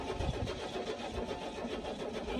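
An Oldsmobile with a dead battery cranking: a steady, weak churning starter drone that runs on without catching, at moderate level with no talk over it.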